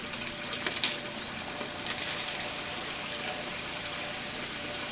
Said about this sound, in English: And we're going to flush this line.